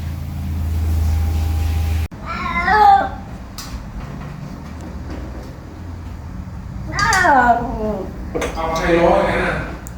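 A house cat meows a few times indoors, the calls rising and falling in short harmonic bursts, close and moderately loud, with a low steady room hum beneath and a brief clunk near the start.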